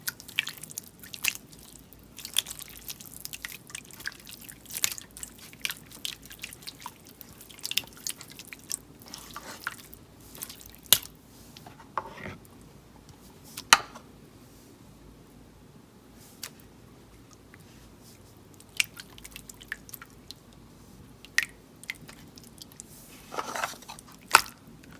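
Clear water-type slime with a fruity apple scent being squished and pressed, giving repeated close wet clicks, pops and squelches in irregular bursts over a quiet background.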